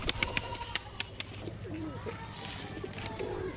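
Pigeons, including one-side red-tailed birds in a loft, giving soft, low coos amid sharp clicking taps and light rustling, fairly quiet and close.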